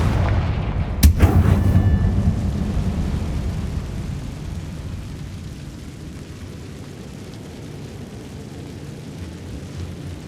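A Confringo blasting spell goes off in the game Hogwarts Legacy: one sudden, loud, booming explosion that trails into a long, fading rumble.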